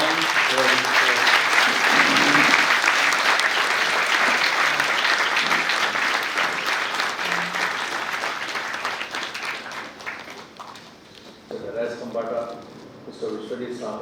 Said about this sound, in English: Please join me in welcoming His Lordship with a round of applause